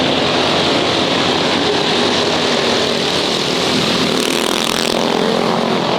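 Fast mini bikes race with a loud, continuous high-pitched engine whine that stays close and steady throughout.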